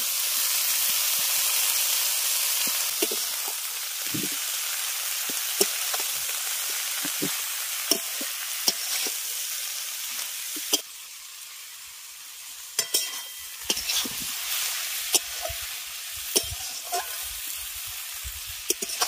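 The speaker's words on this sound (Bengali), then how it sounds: "আলু আর বেগুনটাকে ভেজে নেওয়ার পর এর মধ্যে দিয়ে দিচ্ছি কেটে রাখা শাক।" Chopped khosla greens drop into a pan of fried potato and eggplant, crackling into a steady sizzle with sharp pops and scraping stirs, close and fairly loud throughout.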